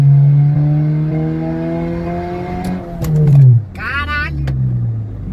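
A Honda Civic in sport mode accelerates hard, the engine note climbing loud and near, then dropping as it shifts down and pulls again. Someone talks over the engine.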